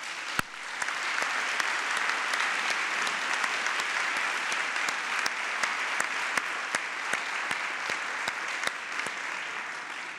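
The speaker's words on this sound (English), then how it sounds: "let's give them all a round of applause" Sustained, even applause fills an auditorium at an education prize announcement, with a steady crowd wash punctuated by sharp, close individual claps standing out throughout.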